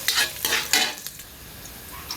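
Garlic sautéing in a hot pan for pork adobo, with a soft sizzle and a few quick spoon-stirring scrapes near the start that fade into a quieter frying hiss.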